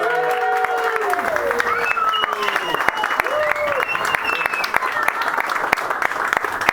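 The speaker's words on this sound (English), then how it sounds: "let's have a round of applause for Tom and Sam" Wedding guests applauding the couple Tom and Sam during the best man's speech, scattered sharp claps through the room with voices and cheering calls rising above them.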